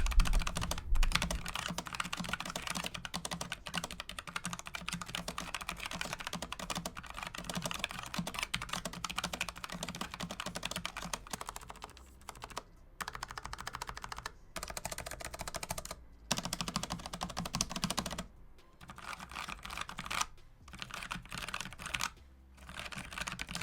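Logitech mechanical keyboard typed on continuously at close range, a dense stream of clacky keystrokes with a few short pauses between bursts and no talking.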